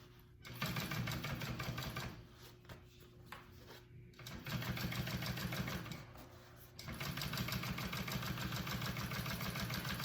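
A domestic sewing machine stitches in three bursts of rapid, even mechanical whirring, pausing between runs, with the bobbin catching; close and fairly quiet, no speech.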